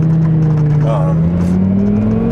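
A 2006 Lamborghini Gallardo twin turbo engine revs loud and close, its tone climbing steadily as the throttle opens, with a voice talking briefly over it.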